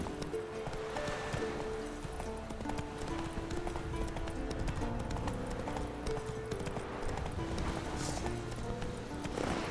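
Roach the horse galloping in The Witcher 3, a rapid steady clip-clop of hooves under continuous game music, with faint talk over it.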